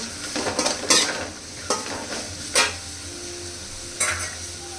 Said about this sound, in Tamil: இந்த வெங்காயம் வதக்கிறதுக்கு கொஞ்சமாக உப்பு ஆட் பண்ணிக்கிறேன்.